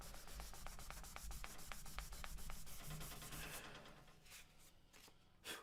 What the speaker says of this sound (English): we're just going to sand them up and get them shiny again